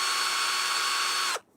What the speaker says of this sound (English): Why are you drilling a hole in there?